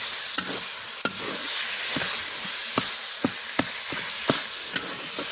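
Onion-tomato paste fries with dry spices for a bombil masala, a continuous loud hissing sizzle punctuated by occasional sharp spoon taps and scrapes against the pan, with no talking.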